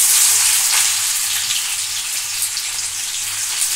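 Onion, garlic and cumin sizzle and fry in hot oil for a Pahadi bhat dish, a steady, close, bright crackling hiss that continues without pause.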